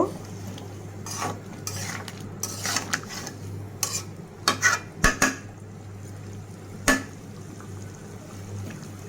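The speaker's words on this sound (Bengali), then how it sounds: "বাঁকিয়ে রাখা ফুলকপি আর আলু দিয়ে দিলাম এখন বেশ কিছুক্ষণ এগুলো আবার কষিয়ে নিব" Cauliflower and potato are stirred through spice masala in a pan, a soft sizzle broken by sharp scraping and clinking of a utensil against the pan in irregular bursts.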